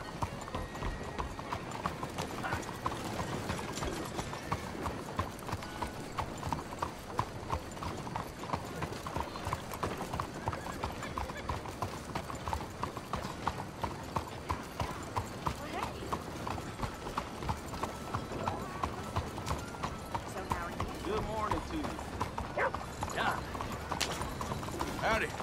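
Horse hooves clip-clop at a steady brisk rhythm in Red Dead Redemption 2, continuous and fairly close for the whole stretch, with occasional voices talking over the hoofbeats.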